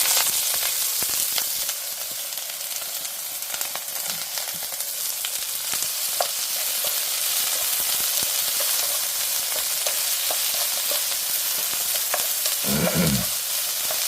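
Sliced onions and green onions stir-frying in a generous pool of oil, a steady, close sizzle running throughout with scattered scrapes of stirring and a louder clatter near the end, no voices.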